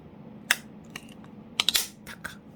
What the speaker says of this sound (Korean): 나머지 오른쪽 걸쇠도 살짝 손으로 이렇게 눌러서 딱딱